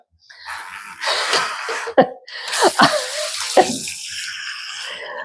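Water splashing and running while a fat goat is rinsed during a grooming bath, with a broad continuous wash broken by a few sharp splashy bursts, close and fairly loud, with no voices.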